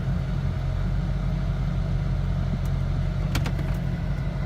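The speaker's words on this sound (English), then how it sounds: "And then I usually just go for a test drive with it." A Dodge Charger SRT8 rumbles steadily on a test drive after new brakes and rotors were fitted, a close, constant low engine note with brief faint clicks near the end.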